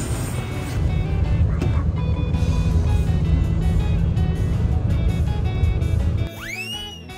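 A large bus engine runs with a steady, heavy low rumble that holds level, then drops off near the end as a few brief rising chime-like tones sound.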